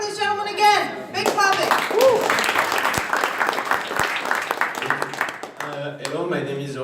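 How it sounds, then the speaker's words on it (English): An audience at a startup weekend opening ceremony claps to welcome a gentleman, a burst of handclaps mixed with ongoing talk and voices over it. "Big clapping"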